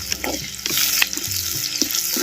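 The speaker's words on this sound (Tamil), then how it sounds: "சேர்த்த அனைத்து பொருளையும் அப்படியே தேங்காய் எண்ணெயில் நல்லா வதக்க வதக்கணும்" Ground chilli and curry leaves sauté in coconut oil for a fried sardine fish kulambu, giving close, crackling sizzles with stirring scrapes throughout.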